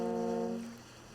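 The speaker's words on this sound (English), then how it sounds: "Oh, it was a boat horn." A boat horn sounds in a Placid Plastic Duck Simulator game, a steady harmonic blast for about half a second that fades into a quiet tail, heard alone.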